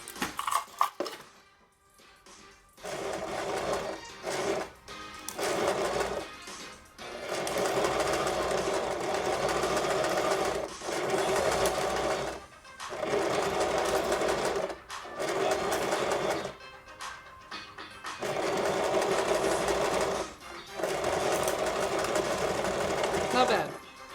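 A sewing machine stitches a seam in bursts of rapid, steady mechanical whirring and clatter, stopping and restarting several times with short pauses between runs; a voice speaks in places.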